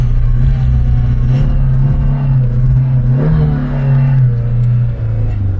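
A Fiat Palio engine revs and rumbles close by as the car accelerates, with a steady low drone and faint irregular pops and clatters over about six seconds, no speech heard.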